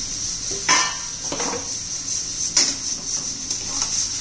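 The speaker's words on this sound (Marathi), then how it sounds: "आता त्याच्यामध्ये आपण हे केळीच्या फोडी घालून घेऊ." Raw green banana pieces tumble into spiced masala in a pan for a Maharashtrian raw banana stir-fry, giving a few clattering knocks against the pan and a spoon, with a faint sizzle running underneath.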